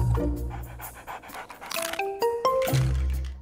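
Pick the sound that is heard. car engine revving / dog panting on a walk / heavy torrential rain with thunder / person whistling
dog panting on a walk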